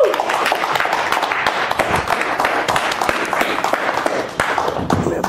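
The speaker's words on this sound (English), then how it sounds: "Let's give him a round of applause for a great lecture." Audience applause following a magic lecture, dense and steady clapping throughout, with some voices mixed in.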